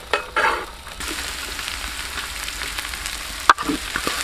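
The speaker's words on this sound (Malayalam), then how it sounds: "സവോള ഇടാം കേട്ടോ" Onions fry in a pan for a beef head roast, a steady moderate sizzle with occasional stirring scrapes and one sharp utensil knock near the end, heard alone without speech.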